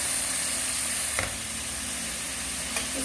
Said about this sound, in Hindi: इसको हम थोड़ी देर इस तरह भूनते रहेंगे।